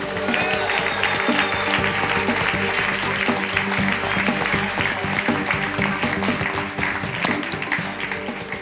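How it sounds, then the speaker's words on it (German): An audience at the Audi Night gala in Kitzbühel applauds to welcome a guest, a sustained, dense crowd clapping over music that carries on throughout and eases slightly near the end. "Begrüßen Sie mit einem großen Applaus"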